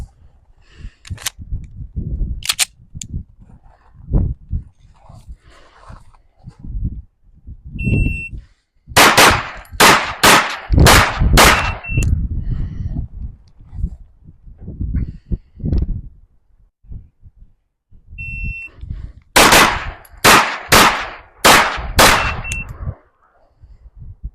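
Gunfire from a JWC Prodigy Elite pistol: several rapid strings of loud, sharp close shots with pauses between them, with timer beeps and occasional metallic clangs of steel targets.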